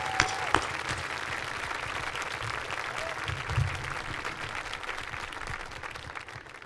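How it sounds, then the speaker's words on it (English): Students and parents at a high school senior awards ceremony applaud a principal in a steady, moderately loud round of clapping that holds throughout and tapers slightly at the end. "Students, if we can give her a round of applause"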